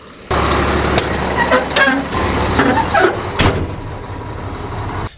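A dump truck on a farm runs close and loud for about five seconds, its engine rumbling steadily with a few short horn toots and clunks over it.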